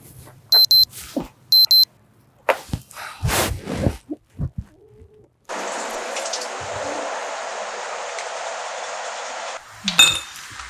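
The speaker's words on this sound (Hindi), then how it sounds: "दीदी यार ये अलार्म तो बंद कर दिया करो ना, मेरी नींद खराब हो जाती है।" A couple of short, bright electronic beeps, followed by kitchen clatter and clinks, then a steady electronic ringing tone that holds for several seconds.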